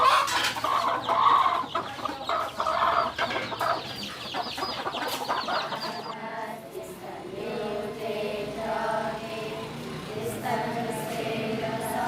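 Chickens cluck busily at a poultry farm in Burma, many birds close and overlapping, then the clucking eases into a steadier background of fowl sounds partway through.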